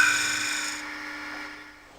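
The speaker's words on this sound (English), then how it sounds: "Shear scraping is created by holding the tool so that the cutting edge is presented to the work at an angle." A Robert Sorby multi tip tool shear scraping turned wood, giving a single close, smooth rasping rub that fades over about two seconds.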